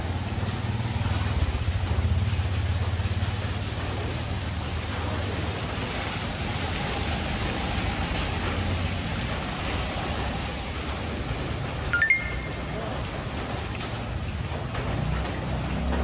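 Rain falls steadily during a group bicycle ride, a continuous broad outdoor hiss with a low rumble beneath it and one brief louder clatter near the end, with no voices.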